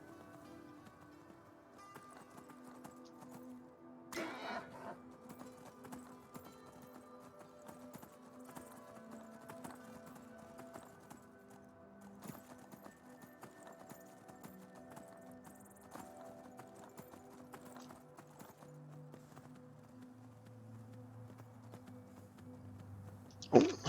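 A horse gallops in Skyrim Dawnguard with soft, steady hoofbeats running quietly through a long stretch, sitting low beneath sustained game music tones, with one sharp louder hit near the end.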